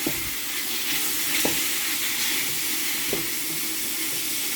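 Beef fat and meat frying in a soup pot while being stirred, a steady loud sizzle with a few scraping knocks of the spoon against the pot.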